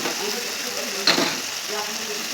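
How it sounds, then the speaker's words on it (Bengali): Potatoes and vegetable stalks sizzling in a hot pan, a steady frying crackle with a brief louder scrape or stir midway. "আলু আর ডাঁটাগুলো হালকা হালকা অল্প অল্প ভাজা হয়েছে"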